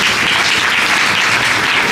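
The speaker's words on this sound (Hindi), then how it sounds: "थोड़ा जोर से ताली।" Audience applauding at a devotional Sri Narayan Jayanti festival program at an ashram, a dense, steady clapping wash filling the whole stretch with no voices over it.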